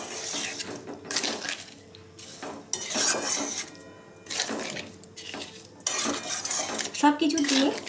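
Date and dried mango pulp chutney ingredients being stirred with sugar in a pan, heard as continuous close scraping and clattering of a utensil against metal, with bursts of clinking and no voices.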